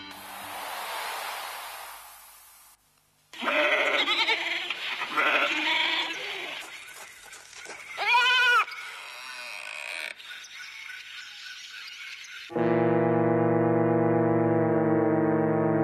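A herd of sheep bleats in a short close cluster of wavering calls, heard alone after a stretch of other sounds and before a long steady foghorn-like tone.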